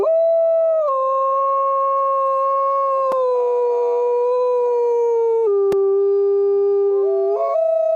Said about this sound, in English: The haunting howl of a wolf is one of the most recognizable sounds in nature.